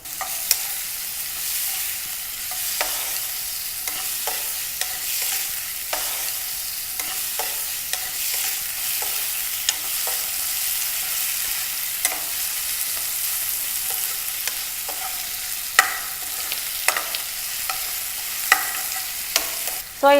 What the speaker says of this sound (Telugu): సో ఇలా 5 మినిట్స్ చక్కగా చికెన్ని ఫ్రై చేసుకున్నాం కదా